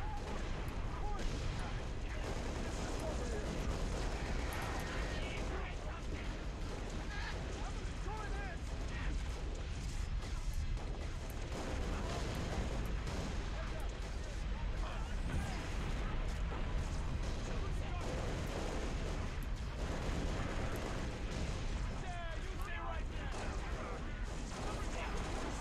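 Grenade blasts and gunfire fill a Halo: Reach firefight in a steady, loud barrage of booms and rattling shots that never lets up, with a voice now and then over the combat.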